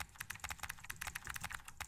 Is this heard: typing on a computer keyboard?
yes